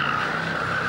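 Bugatti Veyron cornering with a steady high tyre squeal over a low engine rumble, loud and continuous in a brief burst, no voices.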